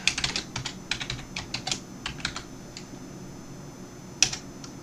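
A burst of rapid keystrokes on a computer keyboard as an email address and password are entered, then a pause and a single sharp key press, close and clear with no voices.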